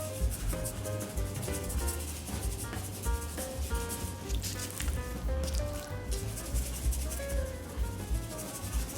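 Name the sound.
hands patting Cajun rub seasoning into chicken breast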